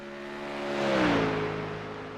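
A Dark Horse race car engine in a GT3 racing video game, its steady tone swelling as the car draws nearer, peaking about midway, then easing off slightly with a falling pitch, alone without voices.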